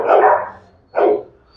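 A big American Bully dog barks twice, close and loud: a longer deep bark, a short pause, then a second shorter bark.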